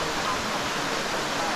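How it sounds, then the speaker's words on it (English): Cascade Falls waterfall at low flow, a thin trickle spilling into a pool, giving a steady close wash of broadband rushing noise with no breaks. "This is the Cascade Falls. There's not much water coming down"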